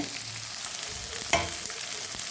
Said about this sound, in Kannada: ಈಗ ಕರಿಬೇವು ಹಾಕಿ ಲಿಡ್ ಮುಚ್ಚಿಡ್ತೇನೆ